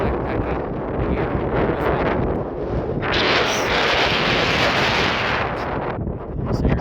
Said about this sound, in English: But it is a bit breezy.